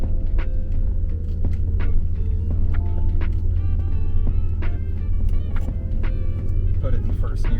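An off-road rig creeping along in first gear, its low engine rumble steady and close beneath frequent talking voices and scattered clicks and knocks.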